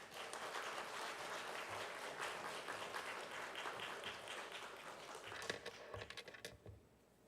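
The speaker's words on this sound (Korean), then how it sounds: "우리 나오실 때 박수로 환영하겠습니다" Congregation applause at a Sunday afternoon church service welcoming a visiting pastor to the pulpit: dense, steady clapping from a full room for about seven seconds, thinning into scattered last claps before it stops.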